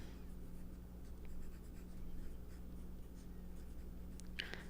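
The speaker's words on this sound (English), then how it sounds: "Pick up our pencil and we write our name." A pencil scratches softly across thick paper while a name is written, a faint, continuous scraping over a steady low hum, with no talking.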